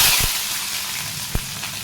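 Green chillies fry in hot oil with garlic and curry leaves, giving a steady bright sizzle broken by a couple of sharp pops.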